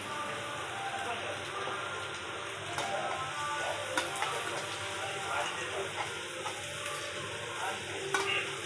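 Freshly ground ginger and onion paste frying in a pan, a continuous dense sizzle with stirring scrapes and clinks of a spoon, steady and fairly close, no voices.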